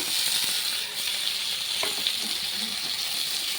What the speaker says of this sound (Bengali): এবার টুকরো আলু আর কিছু টমেটোর টুকরা ছিল, ওটাও তেলে দিয়ে দিচ্ছি